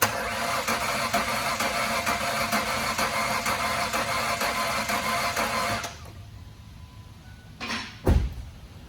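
Truck with a broken crankshaft being cranked on a boosted battery: a steady rhythmic starter grinding and whirring for about six seconds that cuts off abruptly, followed by quiet and a couple of brief clunks.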